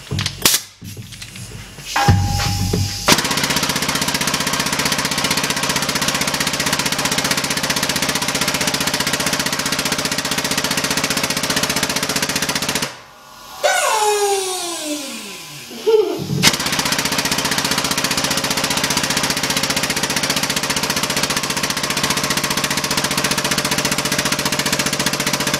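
Air-powered pump on a cheap Harbor Freight shop press running loud and continuous with a rapid pulsing drone, briefly cutting out midway with a falling whine before resuming and running steadily to the end.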